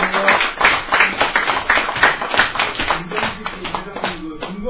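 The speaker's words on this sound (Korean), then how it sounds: "박수!" A gathered audience at a New Year's meeting claps rhythmically in fairly close, loud bursts over several seconds, with some talk mixed in.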